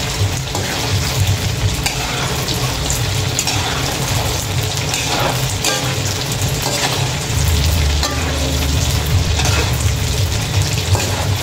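Tofu and pork fry in hot oil in a pan, giving a steady, loud, dense sizzle that crackles continuously throughout, with occasional stirring and spatter and no talking.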